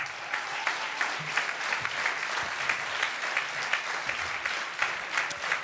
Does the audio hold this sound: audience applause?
yes